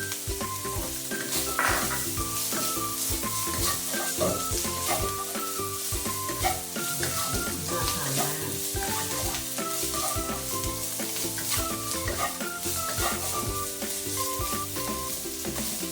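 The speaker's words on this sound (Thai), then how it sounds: "ใส่ใบมะกรูดลงไปคั่วด้วยจะยิ่งหอม" Pork belly stir-fried with kaffir lime leaves in a hot pan, a steady loud sizzle broken by scraping and clanking of the spatula against the pan throughout, with no talking.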